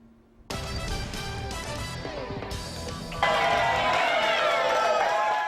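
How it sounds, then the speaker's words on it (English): A loud crowd cheering at an airport rally in Lexington, Kentucky, welcoming two senators: dense applause and shouting that swells sharply after a brief quiet start, with whistles and raised voices near the end. "A loud, cheering crowd welcomed both of Kentucky's senators and dozens of supporters to Lexington's Bluegrass Airport"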